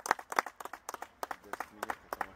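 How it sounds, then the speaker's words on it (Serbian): Scattered claps ring out at a youth football match in a winter league, a handful of people clapping unevenly in short bursts. A few voices cheer between the claps. "Bravo, dečaci, aplauz jedan!"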